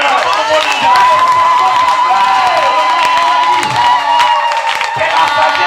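Congregation at a church service cheering, whooping and applauding together in a loud, sustained burst of crowd noise with shouts and claps throughout.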